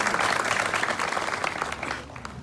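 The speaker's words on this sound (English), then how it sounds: "please give a big round of applause for State Senator Anthony Portantino" An audience applauds at a ribbon cutting for a Stater Bros store opening: a brief, full burst of crowd clapping that thins out toward the end.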